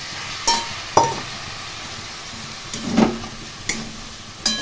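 Soybean and cauliflower fry with a ground paste of cumin, dried and green chili, ginger, sesame and poppy seed in a pan, a low sizzle broken by several sharp clinks and scrapes of stirring.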